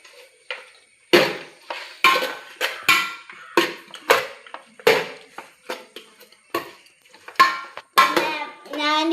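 A spoon scrapes and clanks against a pot as chicken curry with Kashmiri chilli powder is stirred, in about a dozen close, fairly loud knocks at an uneven, brisk rhythm, with no voice over it.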